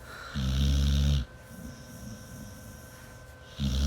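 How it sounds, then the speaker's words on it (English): A slightly overweight dog with sleep apnea snores loudly and close by, two heavy rasping snores with a quieter breathing stretch between them. "The dog is snoring"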